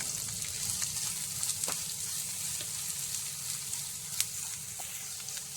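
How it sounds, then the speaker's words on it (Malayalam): Chopped onion fries in a pan as a steady, moderate hiss with occasional small pops and faint stirring clicks, close by and without talk. "അതിലേക്ക് ഇനി സവാള ചെറുതായിട്ട് അരിഞ്ഞത് ചേർത്ത് കൊടുക്കാം"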